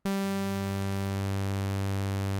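The Cosine phase distortion oscillator in Drambo plays a sustained, saw-like buzzing tone. It is loud, bright and steady from its sharp onset to the end, with no other sound.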